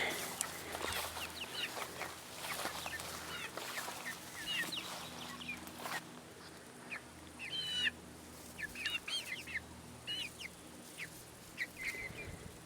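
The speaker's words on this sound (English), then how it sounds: "Here are the chicks getting bigger." Chickens cluck and squawk in short scattered bursts, fairly close, with some rustling movement in a quiet outdoor setting.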